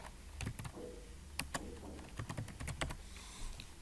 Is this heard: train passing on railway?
no